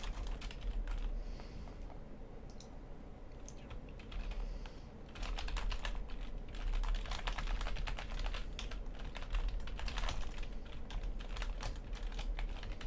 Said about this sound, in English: I'm typing stuff.